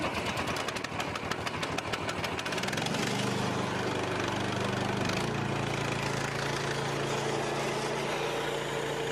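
A lumberyard sawmill's engine, started with an electric starter, catches after a brief churning start and settles into a loud, steady running drone close by, with no talk over it.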